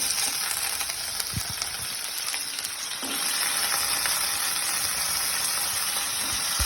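Raw chopped potatoes fry in hot oil for sabudana khichdi, giving a loud, continuous crackling sizzle with a few stirring knocks and a slight surge partway through, no talk.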